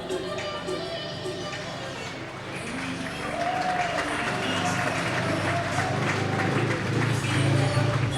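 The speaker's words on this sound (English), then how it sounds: "Rocket Man takes the applause of the home crowd." The home crowd at a Poole Pirates speedway meeting keeps up broad, sustained applause and cheering that swells partway through, with a commentator talking over it.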